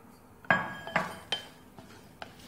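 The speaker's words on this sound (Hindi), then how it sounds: "और इसको अच्छे से मिक्स कर देंगे।" Ingredients for mixed pickle, including water chestnut, amla, green chilli and ground mustard seed, are mixed in a bowl. Four or five sharp, close clinks of utensil on dish ring out, separated by quiet gaps.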